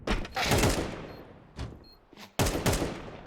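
USP pistol shots in the video game Counter-Strike fire in quick bursts of sharp, close cracks, with a pause and then another rapid volley.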